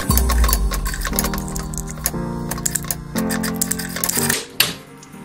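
Sewing machine running a holding stitch along the edge of a reusable fabric face mask, with fast rhythmic needle clatter in several bursts and short pauses between them, close and fairly loud.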